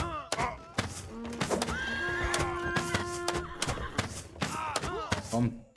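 Horses whinny several times in the Western video game Rustler, with clip-clopping hooves and thuds mixed among the neighs.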